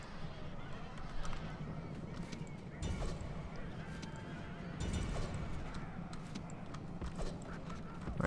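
Massed cavalry horses gallop in a charge during a video game siege battle set in Rohan, a dense, steady rumble of hooves with crowd and battle noise, and a voice talks over it.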